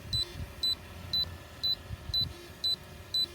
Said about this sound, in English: the controller should start beeping at us